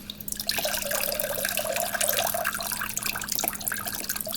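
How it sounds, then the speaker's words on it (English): A large volume of water pours out of a big boat in a continuous splashing gush, steady and fairly close for several seconds with no talk. "that's a lot of water coming out"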